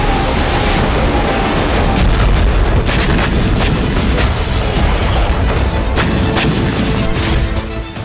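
HIMARS rocket strikes hit Russian army positions in the Russia-Ukraine war, a loud, continuous barrage of booming blasts and rumbling explosions with sharp cracks layered through it, easing slightly at the end.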